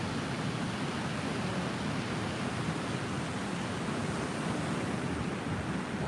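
Steady broadband surf rushes on a quiet, empty beach, a dense continuous roar of waves with some wind buffeting the microphone and no voices.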